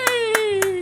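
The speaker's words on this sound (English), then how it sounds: "Give her a round of applause, everyone!" Three distinct hand claps ring out at a steady pace in the video game Chrono Ark, each sharp and close over a sustained musical tone.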